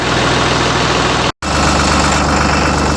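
Tractor engine idling while warming up, a loud steady low rumble that runs throughout with a momentary dropout near the middle.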